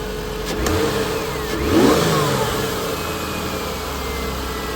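A car engine, just fitted with new plugs and ignition coils after stumbling and misfiring, revs up once near the mic and settles back to a steady idle, with no talk over it.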